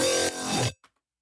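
Distorted synth bass in an electronic track, run through hyper and asymmetric distortion with automated drive and mix, compression and EQ: a loud, dense, buzzing burst under a second long that shifts tone partway through, then a brief faint echo.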